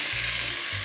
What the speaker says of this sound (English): That's a lovely sizzle.